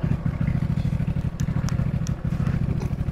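A motorcycle engine runs close by with a fast, even idle throb and a lumpy low pulse, loud and steady throughout, with a few faint clicks above it.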